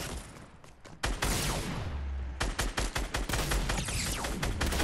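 Rapid shotgun and gunfire blasts in a Fortnite match, a dense string of loud, close shots with short gaps, then more repeated bursts.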